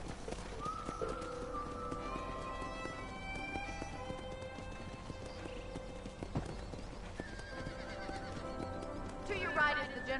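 Horses in Red Dead Redemption clip-clop steadily across a ranch with an occasional neigh, a continuous layered hoofbeat under game ambience and voices.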